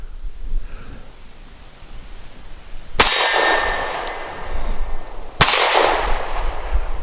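A Diamondback DB9 Gen 4 pistol fired one-handed, two loud sharp shots about two seconds apart with a metallic ring and echoing decay after each, against a quiet outdoor background.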